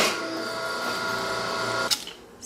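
A hydraulic press runs on a pancake die while cutting copper for earrings, a steady loud mechanical whir with tonal hum that ends in a short clunk and rattle near the end.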